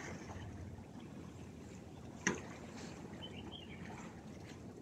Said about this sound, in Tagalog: tunog ng alon sa dagat.